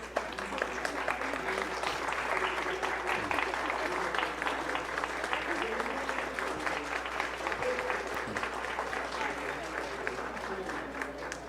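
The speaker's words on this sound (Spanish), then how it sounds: "que nos pongamos un momento de pie y que le demos a estos autores un aplauso como se lo merecen" A standing audience at a book launch for Neurosemiología at the International Book Fair claps in sustained, dense applause that stays even and full for over ten seconds.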